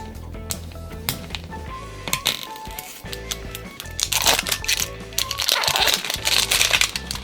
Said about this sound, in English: Now, we're gonna open the other LOL ball.